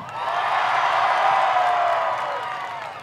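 Fans at a Rockford Speedway spectator drag race roar and whoop, a broad, fairly loud wash of crowd cheering that builds quickly, sustains, and fades toward the end.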